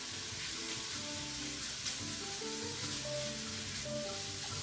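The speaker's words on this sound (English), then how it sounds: "Keep breaking down the sausage into little tiny pieces." Sausage and mushroom stems sizzle in butter in a pan for stuffed mushrooms, a steady close crackle with faint scraping and stirring throughout, no voices.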